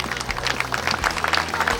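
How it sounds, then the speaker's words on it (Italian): Sustained applause from an audience at a beauty pageant event welcoming a new tourism councillor, a steady, fairly loud patter of many hands clapping without pause. "un applauso"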